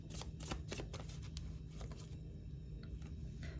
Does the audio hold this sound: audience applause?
no